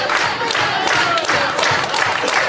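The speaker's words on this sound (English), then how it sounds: "The fans clapping along" Wrestling fans at a 3CW show roar and clap along in a dense, loud crowd din that fills the whole moment without letup.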